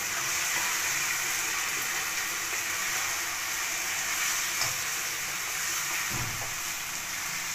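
Chicken and small pieces of egg fry in a pan for chicken jalfrezi, a steady close sizzle with light stirring scrapes and a brief soft thump near the end, no talk.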